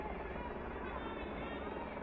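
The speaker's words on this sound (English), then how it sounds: "You can hear a helicopter in the background." Helicopter flying in the background near army barracks at an under-14 girls' county cup football final in Aldershot, a steady droning rumble that fills the whole stretch under faint crowd murmur.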